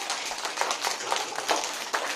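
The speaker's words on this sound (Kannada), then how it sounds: "ಚಪ್ಪಾಳೆ ಹೊಡೀರಿ ಹೆಚ್ಚಿಗೆ." A room full of people clapping, a dense, steady patter of hand claps at moderate volume, with no voices.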